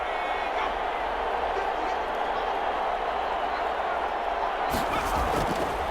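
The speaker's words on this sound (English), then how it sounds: "Listen to this crowd now." A football stadium crowd roars steadily through a tense two-point conversion in a Maryland vs. Georgia game, a dense wash of cheering held at a constant level beneath a commentator's voice, swelling slightly near the end.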